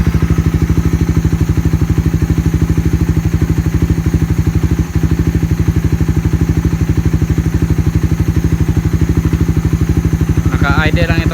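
A Raider 150 FI motorcycle engine idles with a steady, rapid close-up putter, loud and even throughout, with a brief bird-like chirp near the end.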